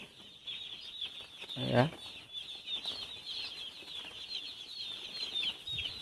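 Broiler chicks on a poultry farm in Assam on placement day, a continuous high chorus of peeping close by, with a short burst of wing flapping and scuffling partway through.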